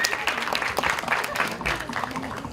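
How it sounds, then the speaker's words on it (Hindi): A crowd at a film teaser launch event claps loudly and continuously, a dense wash of applause filling the hall. "एक बार जोरदार ताली चाहिए"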